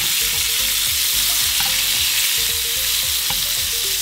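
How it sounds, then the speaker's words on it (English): Venison steaks fry in butter and oil in a pan, a loud, close, continuous sizzle with rhythmic scraping as the fat is spooned over the meat; no voices. "take some of that butter and oil, and just put it over that meat. It just adds that flavor to it, and it cooks it on the top side"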